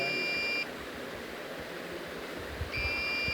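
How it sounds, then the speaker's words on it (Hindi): Sensor buzzer on engineering students' anti-drowsiness glasses that sounds when the eyes close, giving a steady high-pitched electronic beep that sounds for a moment, cuts out, then starts again two seconds later over low background noise. "ये सेंसर की आवाज़ आ रही है"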